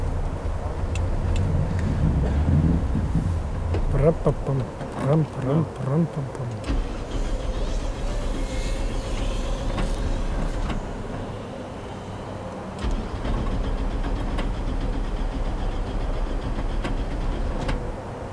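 A Lada race car runs on a race track with a steady low engine drone and a slightly metallic edge, loud and close, while people talk over it early on.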